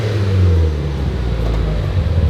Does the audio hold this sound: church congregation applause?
no